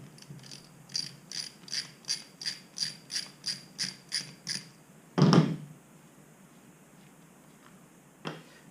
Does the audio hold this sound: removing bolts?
yes